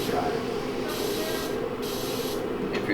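A spray gun hisses steadily in a VR painting simulator for aircraft and cars, with continuous broadband spray coming in bursts that pause briefly between passes.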